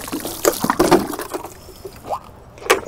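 Water poured into a Nemo Helio LX pressure shower tank, filling toward about 3.5 gallons, splashing and trickling in uneven bursts at close range, with a few louder sloshes.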